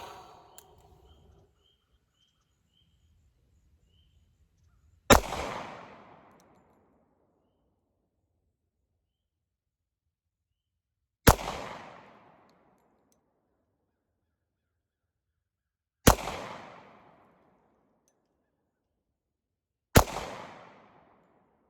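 Four loud, sharp pistol shots from a Tisas 1911 at target practice, spaced several seconds apart, each ringing out briefly in open air, with faint handling noise before the first.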